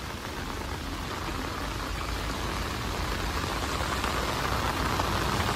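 Steady heavy rain pours down continuously in Dubrovnik, Croatia, flooding streets, a dense broadband hiss of drops hitting surfaces with no voices present.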